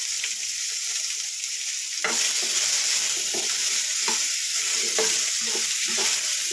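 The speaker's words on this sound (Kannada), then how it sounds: "ಸ್ವಲ್ಪ ಎರಡು ಸ್ಪೂನ್ ಎಣ್ಣೆ ಹಾಕೊಂಡು ಫ್ರೈ ಮಾಡ್ಕೊಳ್ಳಿ" Chopped ridge gourd frying in two spoons of oil, a loud continuous hiss that jumps up as the vegetable hits the pan, then steady sizzling with soft periodic stirring strokes, close up and with no one talking.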